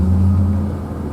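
A Corvette Stingray passes nearby on a road, a deep, rumbling engine drone that is strongest at first and then eases off quickly as the car moves away.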